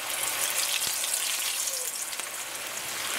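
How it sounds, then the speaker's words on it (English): Potato pieces fry in hot oil at a rapid fry, giving a steady, fairly quiet sizzle and crackle that continues evenly throughout with no voices. "We're gonna fry these until they're light brown in color."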